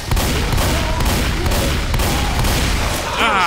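Gunfire aimed at the Tank in the video game Left 4 Dead 2, a continuous loud barrage of overlapping shots and impacts at close range, with chaotic game noise mixed in.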